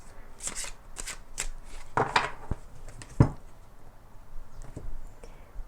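Tarot cards are shuffled in a series of quick riffling bursts and soft slaps, close up, with brief pauses between and no talking.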